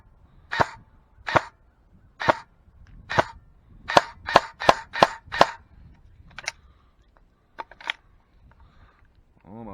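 A Specna SA XO1 airsoft gun fires BBs in sharp, snappy cracks, about a dozen shots in an uneven rhythm with short gaps, then a few softer clicks and a pause as feeding falters.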